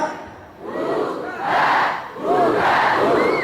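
A large crowd chants a loud two-syllable call in unison, repeated rhythmically several times, each burst swelling and fading.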